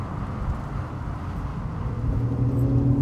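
A Porsche 911 Carrera 3.4 with a flat-six engine runs steadily, a continuous low engine drone that swells slightly louder toward the end, with no talking.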